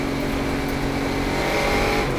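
Race cars in an SVRA vintage race, led by a Monte Carlo, accelerate up a hill in a loud, continuous engine roar that fills the whole stretch, with no speech over it.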